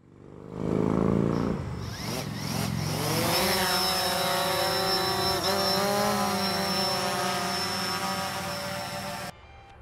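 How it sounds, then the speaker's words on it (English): A DJI Phantom drone spins up and flies on a tower inspection, a close, loud rotor whine that rises in pitch and then holds as a steady buzzing drone before cutting off. "I'm going to be flying this drone."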